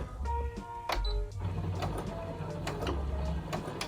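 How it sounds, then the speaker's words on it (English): A Brother SE600 computerized sewing machine runs a burst of fast mechanical stitching with rhythmic clatter, pauses, then resumes at a slower pace; close and fairly quiet, with no talking. "And then it's gonna stitch for you."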